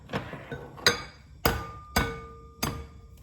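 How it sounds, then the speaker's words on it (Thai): A series of sharp taps and cracks, about six in a row at an uneven pace, close up with no talking, like eggs being knocked against a hard edge. "ค่ะอันดับแรกนะคะตอกไข่ไก่ค่ะ"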